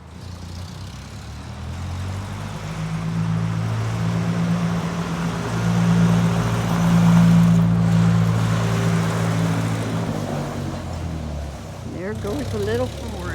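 A small Ford tractor drives past outdoors, its low engine drone rising as it approaches and peaks near the middle, then fading away. A voice speaks briefly near the end.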